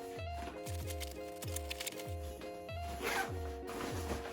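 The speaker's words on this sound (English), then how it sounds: "you literally zip it round, tucking all the other bits in" An Osprey Farpoint 55 travel backpack being zipped shut all the way round, the zipper rasping close up in a quick run of repeated short pulls, one after another.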